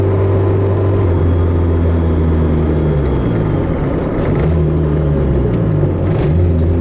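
A boosted 1995 Honda Civic EJ coupe with a B20B engine swap accelerates hard in third gear, its loud engine note droning steadily and rising in pitch close by, with no talking over it.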